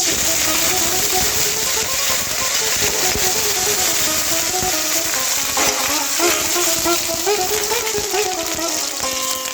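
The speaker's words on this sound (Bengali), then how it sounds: "এবার ওই তেলের মধ্যে দিয়ে দেব দুটো তেজপাতা" Two bay leaves dropped into hot oil in a pan, giving a steady close crackling sizzle throughout, with occasional sharper pops over the frying hiss.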